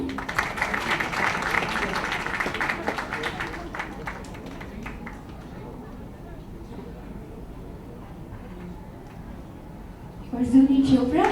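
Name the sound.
audience clapping at a book launch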